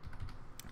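Fingers type on a computer keyboard in a short burst of close, quick key clicks with no voice.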